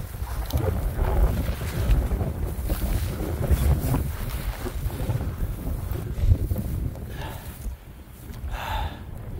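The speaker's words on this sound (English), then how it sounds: "Oh yeah, sorry about the wind." Rough wind buffets and rumbles against the microphone outdoors in a winter storm, a steady loud roar with gusts and no clear talk.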